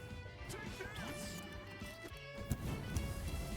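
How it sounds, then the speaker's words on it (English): A sharp, heavy counter impact cracks out in a fighting video game amid busy game sounds and background music, with a few lighter hits around it. "the counter sound effect goes pretty hard"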